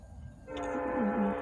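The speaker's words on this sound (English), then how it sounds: "And this train only has a couple cars!" A freight train sounds its horn at a railroad crossing, a loud sustained blare starting partway through over a low rumble.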